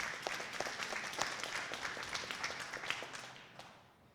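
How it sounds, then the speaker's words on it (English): Audience applause at a school board meeting, a dense burst of many hands clapping together that holds steady, then thins and fades toward the end. "We'll give the November recipients a round of applause."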